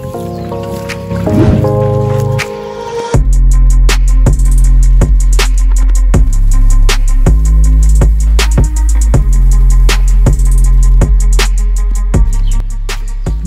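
Water is poured copiously over a heap of chicken-manure compost, a loud, close splashing and gurgling with repeated knocks and thumps throughout.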